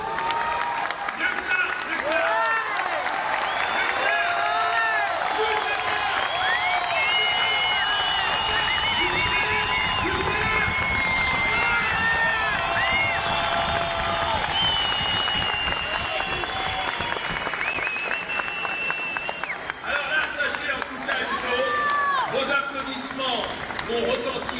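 A theatre audience claps loudly and continuously for an extended stretch, with scattered cheers and excited voices mixed into the dense applause.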